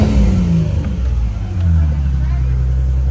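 A Ford Mustang revs through a newly installed loud aftermarket exhaust, with a deep rumbling engine swelling and easing close by in a steady, throaty drone across the whole moment.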